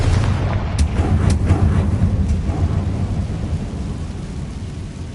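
In the Hogwarts Legacy video game, a Confringo blasting curse explodes with a loud, deep boom and crackling bursts that roll on and fade gradually, with no talking.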